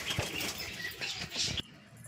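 Pigeons beat their wings in quick, close flurries while gathering to feed, with a short pause near the end; no one speaks.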